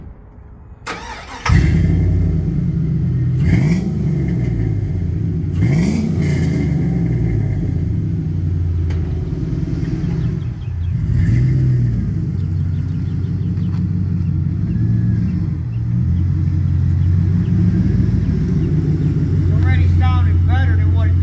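A 2003 Chevrolet Silverado truck with a 4.8 engine starts up and then drives, its engine rumbling loud and close, rising and falling through gear changes. A voice can be heard briefly over it.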